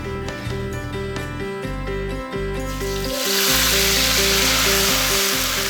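Ground spice paste sautéing in a hot pan gives a steady, close sizzle that swells louder and brighter partway through, over a background of music.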